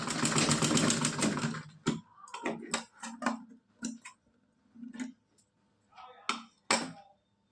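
A sewing machine stitches net fabric for a dress, starting with a rapid continuous run, then breaking into short separate bursts of stitching with quiet gaps between them, close and clear with no talking.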